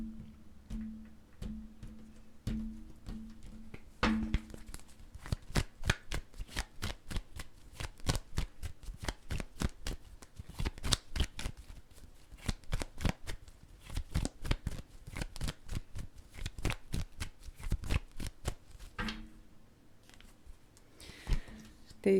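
Tarot cards are shuffled and drawn from a deck in a run of sharp, rapid riffling clicks and slaps, close and fairly loud, with brief pauses and a quieter stretch near the end.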